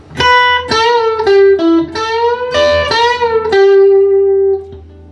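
An electric guitar plays a bluesy lick, with clear picked and bent single notes and short sustained tones, close and fairly loud, no talking.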